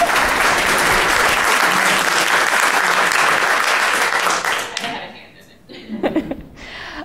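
Loud crowd applause at a talk on open science, a thick burst of clapping that holds for several seconds, then drops off abruptly, leaving scattered claps and a few chuckles.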